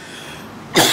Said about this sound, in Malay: Saya batuk sikit, balik umrah minggu lepas.